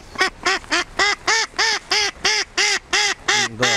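A Semyonov-breed decoy duck quacks loudly and close, about a dozen evenly spaced, harsh, nasal calls in a steady rhythm, with no other sound around them.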